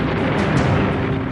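Dense, continuous rumble of bombardment and gunfire on a D-Day battlefield, loud and unbroken across the whole short stretch, with no clear separation between individual blasts.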